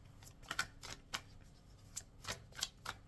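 Oracle cards being shuffled for a draw, a quick series of soft riffling flicks in an uneven rhythm, close and quiet against a faint room background.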